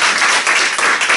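Church of Pentecost congregation clapping together during Missions Week, a loud, close, continuous burst of many hands with rhythmic surges, brief and alone.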